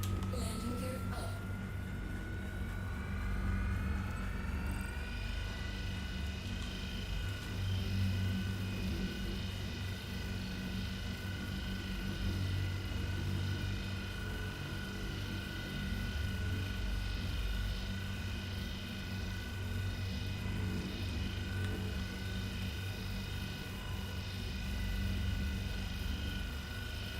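Spaceship engines in Star Citizen spool up within the first few seconds and then settle into a steady droning hum with a rising whine, continuous and moderately loud.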